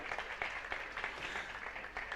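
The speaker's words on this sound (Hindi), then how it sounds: "तालियां बजाकर अनुमोदना कर दें।" Brief, faint clapping from an audience at a Jain religious discourse, heard as a soft, distant patter of many hands.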